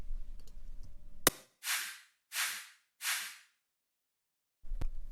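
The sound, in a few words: snare drum layered with a clap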